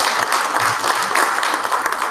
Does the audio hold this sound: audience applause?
yes